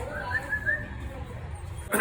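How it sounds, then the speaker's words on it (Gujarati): A small Labrador puppy gives short, high whimpers and yips close by, with people's voices in the background. "ફઈના સામે વાળા લાયા છે નાનું ડોગી લેબ્રા"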